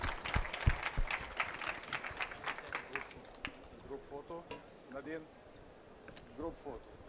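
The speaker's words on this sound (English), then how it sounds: "a big round of applause for our excellent speakers" Audience clapping for speakers at an innovation event in Qatar, a brief burst that fades within a few seconds as voices take over.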